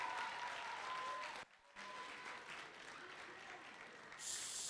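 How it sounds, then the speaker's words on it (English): A crowd claps steadily in sustained applause, with a brief drop in the middle before the clapping picks back up. "Can we get a round of applause for the Senator from New Jersey?"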